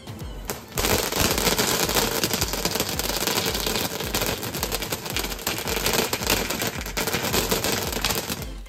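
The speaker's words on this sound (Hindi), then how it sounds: "इसमें आगे की तरफ आग लगाने पर स्प्रे की तरह चटरपटर की गोलियां बाहर निकलती हैं।" A toy gun firecracker lit at the front sprays crackling pellets in a dense, continuous rapid-fire popping and sizzling burst, loud and close, lasting several seconds after a brief quiet start.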